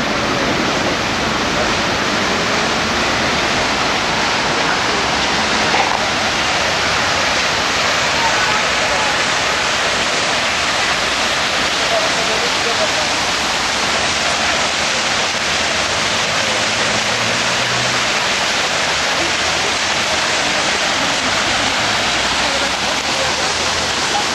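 Water rushes down a stream or waterfall in Georgia, a steady, loud, broadband roar that fills the whole stretch without pause.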